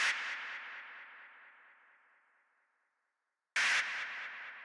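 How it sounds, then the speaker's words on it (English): Filtered white noise passed through a bandpass filter as a dark techno effect: a stuttering hiss that slowly fades over three seconds to silence, then returns abruptly loud and stepping down again. "I've got some white noise, and then this is going into a bandpass filter"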